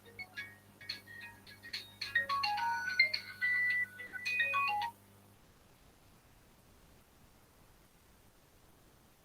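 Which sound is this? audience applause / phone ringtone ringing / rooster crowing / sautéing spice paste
phone ringtone ringing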